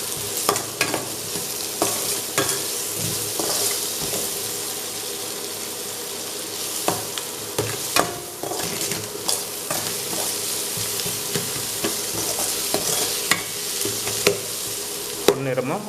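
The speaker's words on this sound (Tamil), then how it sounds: "வெங்காயம் நல்லாவே வதங்கிடுச்சு." Onions fry with turmeric and salt in a pan, giving a continuous sizzle broken by frequent scraping stirs of a spoon against the pan, close up, with no talking.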